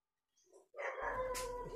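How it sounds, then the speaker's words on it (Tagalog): A few dogs barking up ahead on a path, a brief faint yip followed by louder, sustained barking and yelping that carries on alone without talk. "Maraming aso sa unahan mga tol."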